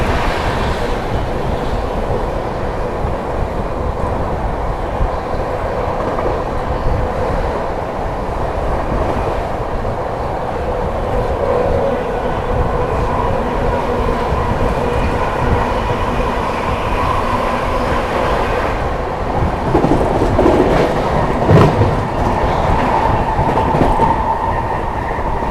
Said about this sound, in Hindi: तो ट्रेन जो है अपनी स्लो हो चुकी है इटावा जंक्शन पहुंचने से पहले ही